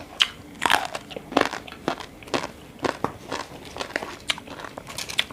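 Crunchy pounded cucumber salad with straw mushrooms is bitten and chewed close up, giving a string of sharp, irregular crunches and crackles with no talking.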